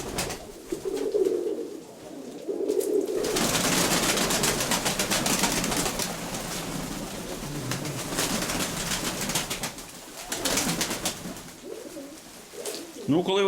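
Pigeons in a loft, with soft cooing and bird calls near and far amid a rustling, busy background, while someone talks in places.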